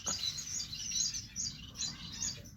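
A star finch (ruficauda) chirps in an outdoor aviary, with repeated high, thin calls over a steady background hiss, moderately close and fairly quiet.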